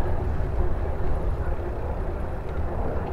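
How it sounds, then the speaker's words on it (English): A Black Hawk helicopter passes overhead outdoors, a steady low broadband rumble and rotor drone that stays fairly even in loudness throughout, heard alone without talk. "Sounds like a Black Hawk."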